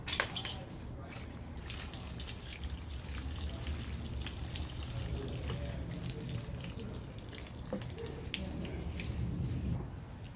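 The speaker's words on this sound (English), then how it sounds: "just making sure we water it in with the same amount of water as before" Water poured onto potted soil treated with a soil inoculant, a steady splashing trickle lasting several seconds, close and continuous.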